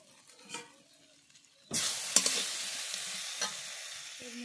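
Whole dried red chillies, mustard seed five-spice, turmeric and mango pieces sizzle loudly in hot oil for a tangy-sweet chutney, a quiet scrape before a sudden burst of frying that keeps crackling steadily with occasional stirring clicks.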